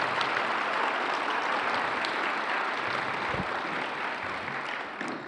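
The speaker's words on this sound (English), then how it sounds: "give them a big round of applause" An audience at a school foundation fall tipoff event applauds sponsors, a dense, steady roar of clapping that carries on for several seconds.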